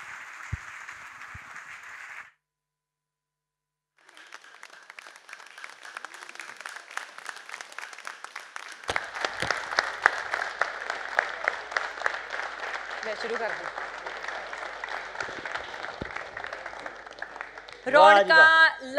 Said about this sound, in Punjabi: ਤਾਲੀਆਂ, ਜ਼ੋਰਦਾਰ ਤਾਲੀਆਂ।